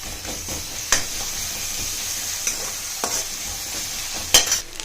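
Onion and green chili sautéing in hot oil in a kadai, a steady sizzle under scattered clinks and scrapes of a ladle stirring, with a louder metallic knock near the end.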